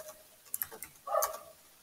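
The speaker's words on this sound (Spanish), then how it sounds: "Eso suena a un teclado mecánico." A mechanical keyboard clicks in a few sparse, uneven keystrokes, followed by a short cluster of quicker taps, close and fairly quiet with no talking.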